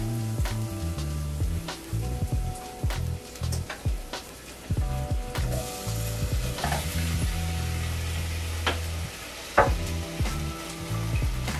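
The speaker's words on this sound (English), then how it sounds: "You want your shallots to soften up a little bit. And then I like to throw my potatoes in there." Shallots and potatoes fry in a pot for a one-pot chicken, potato and leek dish, giving a continuous close sizzle broken by scraping stirs and occasional clunks of utensil against the pot.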